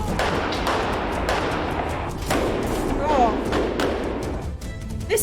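RCMP training gunfire, with repeated sharp cracks and thumps in an irregular series over a dense noisy background, heard as played-back footage.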